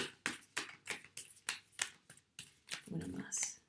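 Playing cards being shuffled by hand during a tarot-style reading: a steady series of crisp riffling and slapping bursts, close and fairly quiet, ending in a softer rustle.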